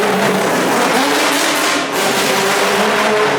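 A 350hp Nissan R32 Skyline drifting on a track makes a loud, continuous engine roar held at full throttle, with broadband tire and wind noise throughout a close, dense, unbroken stretch.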